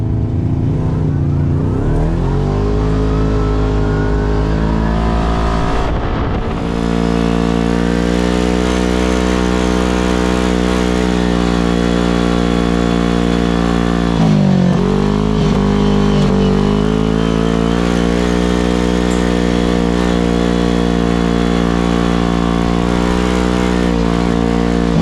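A Kawasaki KRX 1000 side-by-side fitted with a PLM exhaust rumbles loudly on a trail ride, its deep engine note droning steadily with rises and dips in revs as it accelerates and eases off.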